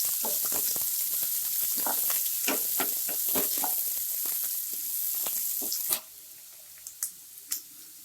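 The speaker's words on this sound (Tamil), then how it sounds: "இப்போ நம்ம வெங்காயம் சேர்த்திக்கலாம் வெங்காயம் நல்லா வதங்கலாம்" Onions sautéing in a pan for goat trotter curry, a bright crackling sizzle with scattered stirring scrapes that fades out midway, leaving a few faint clinks near the end.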